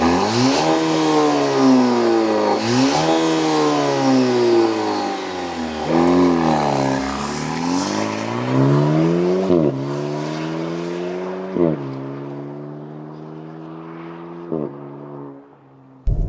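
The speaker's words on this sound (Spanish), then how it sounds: "Ese sonido es de escape." A Maserati Grecale GT sport SUV with a 2-litre four-cylinder engine revs and accelerates through gears, a loud, droning exhaust note rising and dropping with each shift, heard from inside the car.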